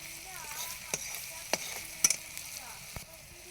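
Fish curry spices fry in a pan with a low, steady sizzle, broken by a few sharp clicks and scrapes of stirring.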